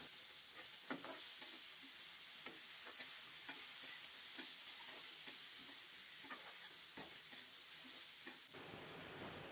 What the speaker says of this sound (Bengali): বাটা কাঁচামরিচ দিয়ে নেড়ে চেড়ে কাঁকরোলটা আরও কিছুক্ষণ কষিয়ে নেব